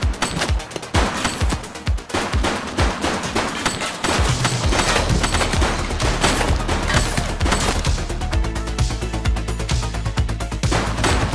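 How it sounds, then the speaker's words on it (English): Gunfire in The Precinct police video game: rapid bursts of automatic shots, loud and close, crackle in quick succession, then settle into a steadier stream of firing over a low rumble. "He's shooting!"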